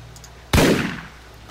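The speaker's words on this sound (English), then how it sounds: "Prove your mettle with the hand cannon." One loud, sharp hand cannon blast in the pirate video game Pirates of the Caribbean Online, a sudden booming report with a decaying tail, alone against quiet game ambience.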